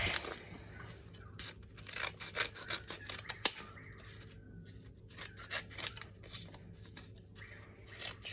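Scissors trim sheets of paper for a small handmade pamphlet-stitched journal, giving intermittent crisp snips and rustling paper handling in a quiet room, with one sharper click near the middle.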